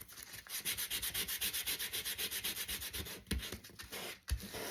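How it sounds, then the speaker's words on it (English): Sandpaper scrubs across index card paper in quick rhythmic back-and-forth strokes, about twenty even rasps close up, then a couple of louder scuffs and knocks near the end, with no voices. "So we'll go back to sanding."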